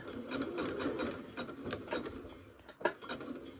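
A home sewing machine zigzag-stitches around an appliqué at width 5 and length 4, a soft, steady mechanical chatter heard up close in short runs with small thumps and pauses.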